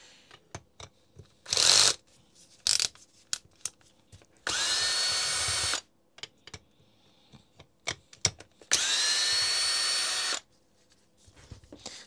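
A Nocord NHD 800 rotary hammer's housing screws being removed with a power screwdriver, giving two multi-second whirring bursts between clicks, taps and handling clatter, close up with no speech.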